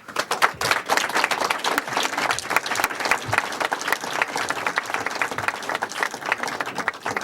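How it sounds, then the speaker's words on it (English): Audience at a magic show applauding a volunteer called up from the crowd, a full, sustained burst of many hands clapping that stays loud and even for several seconds. "We get a nice round of applause for you"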